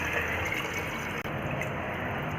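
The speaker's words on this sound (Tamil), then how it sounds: "இப்போது 1/2 கிலோ கறிக்கு நாங்கள் வந்து 8 டம்ளர் தண்ணி வந்து ஆட் பண்ணுறோம்." Water poured into a cooking pot for mutton chest bone soup, a steady broadband rush running continuously for a few seconds with one brief break midway, close and fairly loud.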